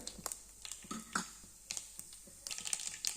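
Mustard seeds and cumin crackle and pop in hot oil in a kadai while making pickle. The sharp, irregular spits and snaps are faint and close.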